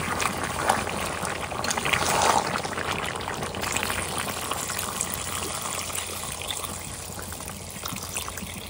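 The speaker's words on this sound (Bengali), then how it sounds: "মাংস কষানো হয়ে গেছে, জল দিয়ে দেবো এবার।" Water poured into cooked chicken curry in an outdoor pot, a steady rushing, splashing pour that runs for several seconds and then eases into a softer trickle and bubbling, close by, with no talking.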